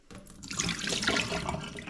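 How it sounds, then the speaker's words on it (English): Water poured out of a coffee machine's removable drip tray into a kitchen sink, a steady close splashing stream running for nearly two seconds with no talk. "pour the water out"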